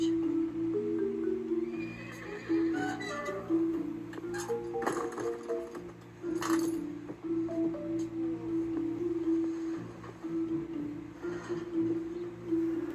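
Horses whinny and neigh repeatedly over a steady low hum, with a few muffled thumps and shuffling sounds in between.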